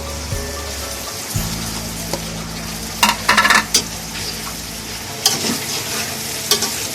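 Vegetables for vegetable fried rice stir-frying in a pan, with a steady sizzle running throughout and a few louder scraping stirs of a utensil breaking through, close and alone with no talk.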